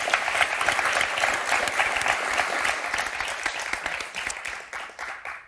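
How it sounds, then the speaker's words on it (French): Studio audience on the French game show Motus clapping warmly for a young girl named Inès, a full, steady round of applause that fades out toward the end. "On va applaudir Inès,"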